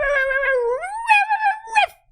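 A person imitating a dog in a short social-media clip, producing a drawn-out howling whine that rises and wavers, loud and close, with no speech.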